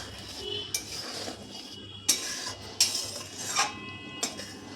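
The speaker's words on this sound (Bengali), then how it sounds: "আবারও আমি একটু নাড়াচাড়া করে নেব।" A metal spoon stirs a rice and shrimp paste mixture in a pan, giving several distinct scraping clinks against the cookware at irregular intervals over a soft background hiss.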